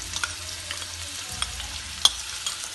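Onion sautéed with ginger-garlic paste in a pan gives a steady frying sizzle, broken by soft scrapes and clicks of a stirring utensil, close and with no voice.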